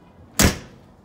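The front door of a Big Country 4011ERD fifth-wheel RV opens with a single sharp, close thud-like clunk that fades quickly.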